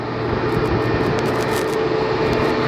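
An American Airlines jet airliner passing overhead at LAX, a steady broadband engine roar that holds loud and even throughout, with no talk.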